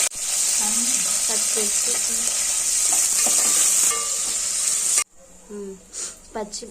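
Mustard seeds, cumin, curry leaves and green chillies sizzle and crackle loudly in hot oil for about five seconds, then the frying cuts out abruptly, leaving a few quieter sputters and scraping sounds.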